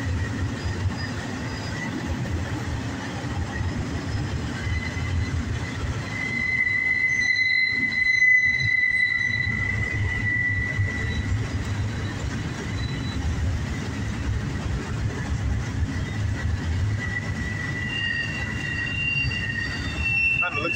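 CSX southbound intermodal double-stack freight train rolling steadily past in Dayton, a continuous loud rumble of wagons with sustained wheel squeal and faint rail clatter throughout, no talk.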